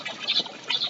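Outdoor birds give two loud, raspy, duck-like squawking calls, close and alone, with no voices.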